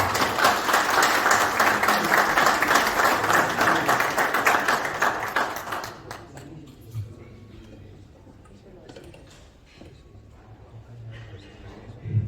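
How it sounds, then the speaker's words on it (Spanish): An audience at a dinner event breaks into loud sustained applause that fades out after about six seconds, leaving quiet room noise and a few scattered sounds. "Lo recibimos con un fuerte aplauso."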